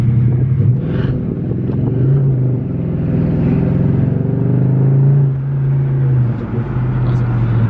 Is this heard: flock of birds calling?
no